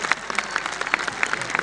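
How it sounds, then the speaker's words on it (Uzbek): A live audience breaks into brief applause, a dense patter of many hands clapping at once, moderately loud and filling the room, with faint voices mixed in. "1000 yoshga kiradiganlar qarsaklarni ayamasin."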